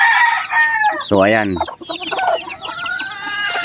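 Backyard chickens and chicks cluck steadily close by, with one loud drawn-out squawk cutting through the middle and a brief voice at the end.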